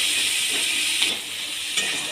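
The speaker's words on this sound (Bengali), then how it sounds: "দিয়ে পেঁয়াজটা হালকা ভেজে নেব।" Onions fry in a pan with a steady, bright sizzle, broken by a couple of brief stirring scrapes.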